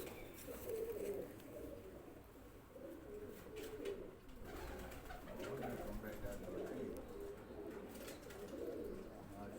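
A fancy breeder pigeon coos in low repeated throaty phrases, close by but soft, amid faint background noise and distant voices.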